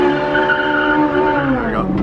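Porsche 911R doing a burnout, loud sustained tire squeal over a steady engine roar, with the pitch dropping slightly near the end.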